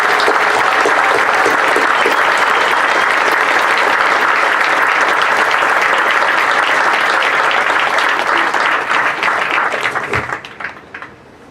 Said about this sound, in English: can we please give a big round of applause to Superintendent Bonnie Edwards